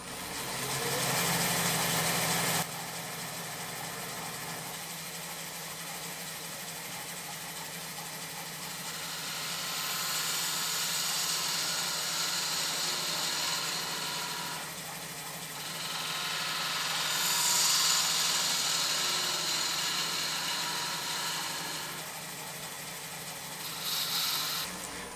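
A wood lathe turns a madrone hollow form at about 1,000 RPM, giving a steady mid-to-high whirring drone with broad hiss that swells and eases as the tool works the piece. No one speaks.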